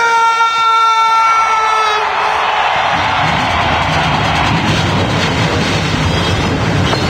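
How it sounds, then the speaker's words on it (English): Stock car engines fire up in a NASCAR SEGA racing game at Pocono, a loud, dense roar that swells and holds after a fading tonal signal and stays steady to the end. "Drivers, start your engine!"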